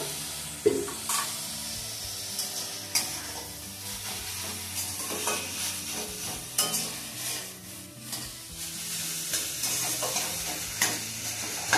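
Chicken momo stuffing seasoned with soy sauce and chilli powder is stirred in a pan, giving a continuous soft sizzle with scraping and occasional clinks, and no one speaks.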